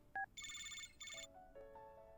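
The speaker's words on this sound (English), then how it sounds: "Suddenly, the phone rings." A phone rings in a video game story scene, first a short two-tone beep and then two bursts of bright electronic ringtone trills, followed by softer sustained tones, fairly faint and with no one speaking.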